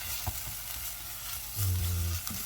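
Green onions sizzle in melted butter in a pan, a steady soft frying hiss with a brief louder crackle and stir partway through, heard alone without talk.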